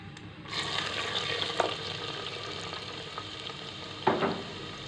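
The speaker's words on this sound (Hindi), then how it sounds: "प्याज को गोल्डन ब्राउन होने तक भून लेंगे।" Onion and curry leaves fry in a pan for a masala fish curry, giving a steady, close sizzle that holds throughout, with a few scraping stirs and clinks of a utensil against the pan.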